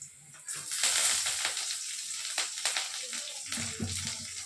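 Curry leaves hit hot oil in a pan already holding onions, giving a loud, steady, close sizzle with sharp crackling spikes throughout.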